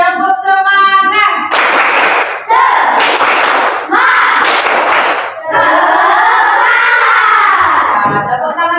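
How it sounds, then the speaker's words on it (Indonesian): Schoolchildren in a classroom stand and perform a rhythmic clapping chant, bursts of loud group claps and shouted voices alternating with a teacher speaking, all close and lively. "Sekali lagi, tepuk semangat."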